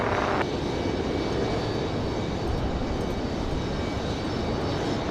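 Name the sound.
Airbus A220 jet departing on runway heading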